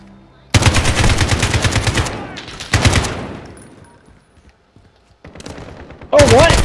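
AK rifle gunfire in the video game Call of Duty Modern Warfare, loud rapid automatic bursts in two long strings, then a shorter burst and a final volley, with game sounds between.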